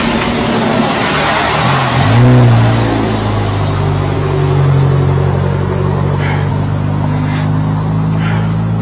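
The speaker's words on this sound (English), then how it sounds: "So we're gonna have some traffic noise here, unfortunately." A car passes along a road near a creek at night, its engine and tire noise swelling to a loud peak as it goes by, then a steady traffic rumble continuing afterward.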